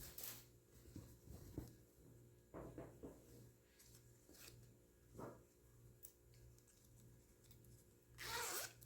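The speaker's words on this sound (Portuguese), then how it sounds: "Vou abrir aqui o meu zíper." A zipper being opened on a pleated skirt during sewing, heard as several short, close rasping pulls with soft fabric handling between them and one louder burst near the end, over a low steady hum.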